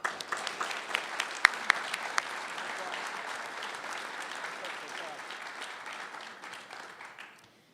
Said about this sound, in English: If you could please hold the applause till the end of the program